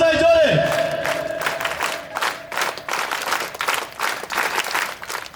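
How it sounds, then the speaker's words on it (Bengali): Scouts at a school annual sports award ceremony give loud, rhythmic group claps in quick bursts, following a brief tonal sound at the start, with crowd voices mixed in. "সমাবেশ স্কাউট তালি বাজায় জোরে"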